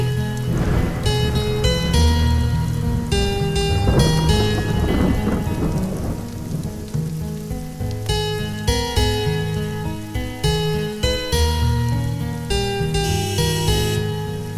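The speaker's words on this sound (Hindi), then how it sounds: "बॉम्बे की बारिश नहीं है ये" Heavy rain pours down with deep rolling thunder, loud and continuous, with tonal music playing over the storm.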